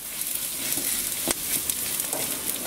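Onion, garlic and ginger sizzling steadily in a hot wok, a loud continuous fry with faint scraping stirs throughout.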